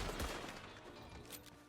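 Evans Repeater rifle shots in the online Western game Red Dead Online, a faint burst of gunfire with a sharp crack near the start, then a washy rumbling tail and a few softer later reports.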